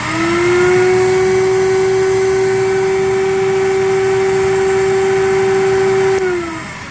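Record cleaning machine spinning a Columbia vinyl record wet with cleaning fluid, giving a loud steady motor whine and vacuum-like rush that holds for about six seconds before winding down.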